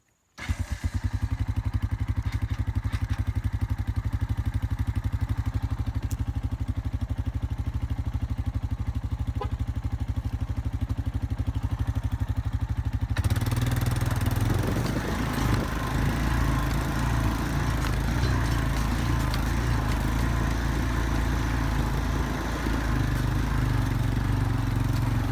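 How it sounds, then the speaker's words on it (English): A four-wheeler ATV engine cranks into life, idling with a steady close putter before revving up into a louder, rougher running roar that holds for the rest of the stretch. "I think I'll just crank up the four-wheeler and run around a little bit"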